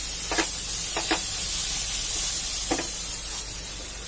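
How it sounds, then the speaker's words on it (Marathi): Red chili powder and spices sizzle in hot tempering oil for a corn paneer butter masala: a steady close hiss with a few brief crackles. "लाल तिखट मसाले फोडणीवर छान भाजून घ्यायचं"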